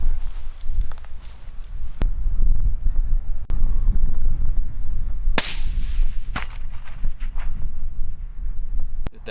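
A long-range rifle shot fired outdoors in wind: one sharp, loud crack with a short tail, preceded by handling clicks and steady wind rumble on the microphone.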